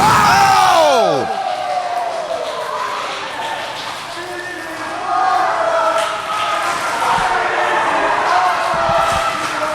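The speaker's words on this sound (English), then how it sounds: "Listen to the crowd here in Fort Myers chanting, "This is awesome,"" A pro wrestling crowd in Fort Myers yells and chants together in a loud, echoing arena roar that swells and dips. A commentator's voice cuts through at the start.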